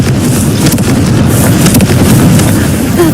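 Hogwarts Legacy's Confringo fire spell detonates in a loud, sustained explosive roar with crackling bursts and deep rumbling, heard alone.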